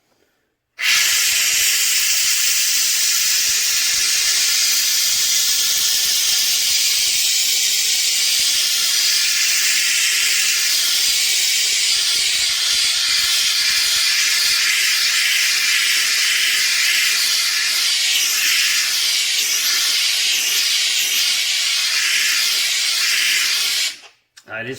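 Steamfast SF-210 handheld steam cleaner releasing a loud, continuous hiss of steam that starts abruptly, holds steady for over twenty seconds, then cuts off.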